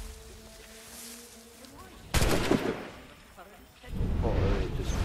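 Soldiers practicing shooting in Assassin's Creed 3 let off loud musket volleys, one sudden crack followed by a second burst a moment later, amid game ambience and a talking voice.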